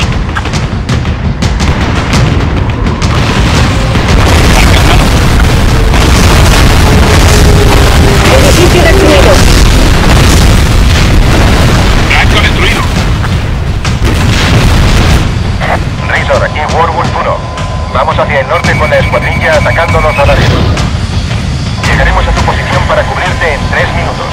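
In the video game Ace Combat Assault Horizon, dropped bombs detonate in heavy, rolling booms mixed with cannon-like blasts and aircraft roar, loud and continuous, with radio voices talking over the barrage.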